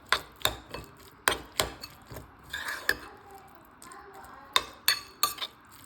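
A spoon clinks and scrapes against a bowl while chili mayo and Schezwan sauce are mixed together, sharp irregular taps and stirring scrapes, close and fairly quiet.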